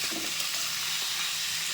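Steady, even sizzle of food frying in hot oil in a pan, a dense unbroken hiss with no talk.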